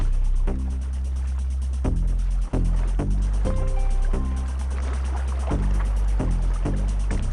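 Kayak paddle strokes dip and pull through calm open sea water in a steady rhythm, each stroke a close, clear splash and swirl with no voices over it.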